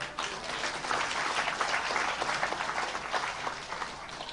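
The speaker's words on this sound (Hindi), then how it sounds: "हाँ, तालियां।" A crowd at a Vishnu Mahayagya religious festival claps in a dense, continuous roar of applause that holds steady for a few seconds and then eases slightly.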